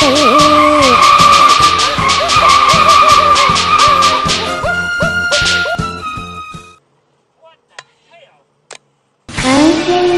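Video-game large trailer truck braking hard: loud, sustained tire skidding and squealing with engine drone for several seconds, then near silence broken by a few sharp clicks and a burst of noise at the end.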